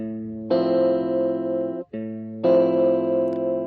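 Electric guitar with an effects unit plays a natural minor scale, sustained distorted tones ringing in steady steps with a brief break near the end, loud and alone without talk.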